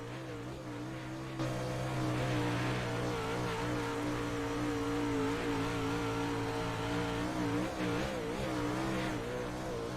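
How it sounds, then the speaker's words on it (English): Race car engines on a bumpy track, their steady roar wavering and pulsing as the cars bounce over big bumps, loud and continuous from an onboard view with no talk. "You can hear the cars as they go over the bumps, how the modulation of the engine just from the big bumps."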